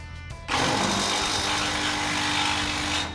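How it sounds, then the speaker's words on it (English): Sawzall reciprocating saw with a smooth blade cutting through the rear sheet-metal body of a Fox Body car for a back-half drag build, a loud continuous buzzing rasp starting abruptly after a brief quiet moment and running steadily. "So, that sawzall blade is smooth."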